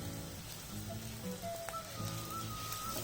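Chana dal, urad dal and black sesame seeds fry in hot oil for Pongal kuzhambu, a soft, steady crackling sizzle with small pops throughout, faint and continuous with no talking.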